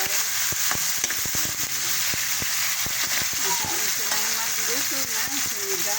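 Ginger and tomato sauté in hot cooking oil for a Filipino sinigang of milkfish with santol, a steady close sizzle and crackle running throughout, marked by sharp pops and clicks and scraped by the occasional stir, with no talk.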